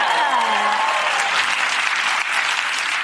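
A studio audience claps and applauds on a talk show, a dense, steady wash of hands that holds evenly for a few seconds with a faint voice at the start.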